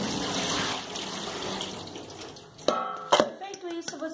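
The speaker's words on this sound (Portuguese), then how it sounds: "Primeiro você vai tirar toda a água que você deixou a abobrinha na água de salmoura." Brine water drains from soaked zucchini, a soft continuous pour and trickle that fades out, followed by a few sharp clinks and knocks of the bowl nearby.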